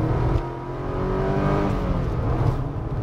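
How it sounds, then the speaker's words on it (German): An old car accelerates hard in second gear from about 50 km/h at the edge of town, its engine note rising steadily and loudly from inside the cabin, with no talking. "Geben wir mal Gas."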